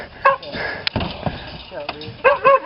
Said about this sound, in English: Shut them dogs up.